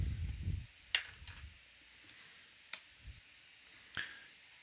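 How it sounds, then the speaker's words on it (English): Typing on a computer keyboard at a desk: a few sharp, isolated key clicks spaced out over several seconds, with a soft low thump at the start and quiet background between strokes. "I'm going to type the explode command."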